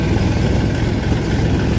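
An Escort tractor engine comes in from a farm field, a loud, steady, close diesel rumble with no pauses.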